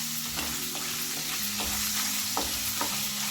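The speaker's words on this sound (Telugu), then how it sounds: "పచ్చిరొయ్యలు బ్రౌన్ కలర్లో బాగా ఫ్రై అవ్వాలి" Raw prawns fry in hot oil until browned, a steady close sizzle with intermittent stirring scrapes and clinks, no voices.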